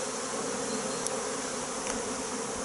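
Honeybees buzzing around an open hive during a spring inspection, a dense steady hum of many insects close by with no voices.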